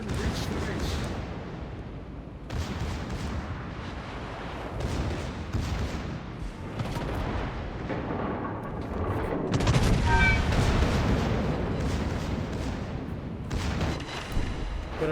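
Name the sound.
Tirpitz battleship secondary guns firing, World of Warships video game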